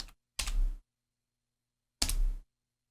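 Computer keyboard being typed on at a music production setup, two short, close bursts of clicky keystrokes separated by silence.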